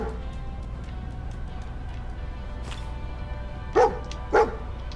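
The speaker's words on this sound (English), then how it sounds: "I got my doggy." A dog in the Fallout 4 video game barks twice near the end, two short sharp woofs about half a second apart over low game background hum.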